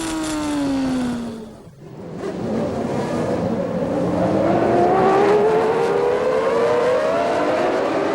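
Formula 1 race cars at the start of a 1993 Grand Prix: a loud, continuous high-pitched engine scream with rising pitch as the field accelerates away, a brief dip in volume, then sustained roaring from several cars.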